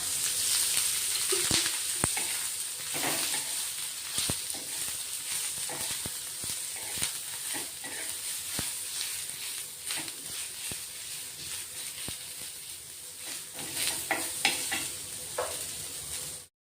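Sliced onions frying in a little oil in a pan, a steady close sizzle broken by repeated scraping stirs and clicks of a utensil against the pan, with no talking.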